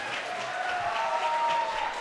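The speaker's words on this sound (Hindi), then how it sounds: "तालियाँ बजाकर उनका इस्तकबाल करें।" Audience in a hall at an All India mushaira applauds to welcome a poet, an even, continuous patter of many hands at moderate loudness with no talk over it.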